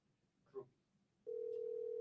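A steady, continuous telephone tone starts partway through and holds to the end, loud and unbroken over faint room noise after a brief soft sound.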